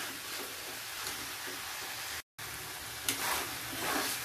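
Fresh grated coconut stirred with cowpea pods in a frying pan, a steady broadband sizzle and scrape running throughout with one brief dropout midway, no talk.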